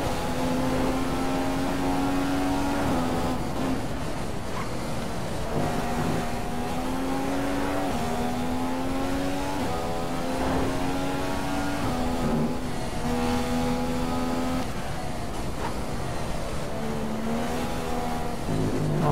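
Formula 1 car from the F1 2015 racing game lapping Bahrain's Sakhir circuit, its engine a loud, steady high whine with repeated gear-shift steps and pitch rises, shaking with a flat-spotted front-left tyre, no talk.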